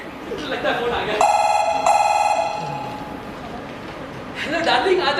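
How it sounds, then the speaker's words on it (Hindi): An old-style telephone bell rings two clear bursts close by, bright and metallic, with people speaking before and after the rings. "लगता है फोन आ गया।"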